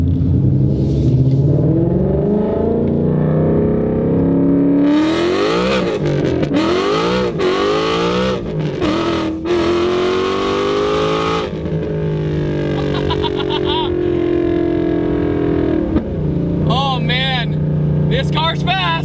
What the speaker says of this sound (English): This is a stock S550 Mustang engine as well, and it's making this much power.